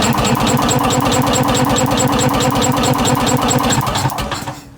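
An Onan RV generator engine, abandoned and being revived, cranks over in a steady rapid rhythmic chug, loud and close, without firing, slowing and fading at the end.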